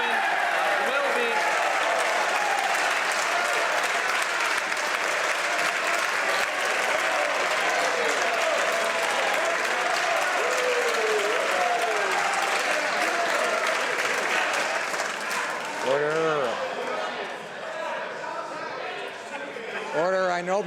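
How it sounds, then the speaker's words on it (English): Members of parliament clap and thump in a sustained burst of applause for the Prime Minister, with crowd murmur under it; a voice speaks near the end as the clapping thins. "I know members are anxious to applaud the Prime Minister"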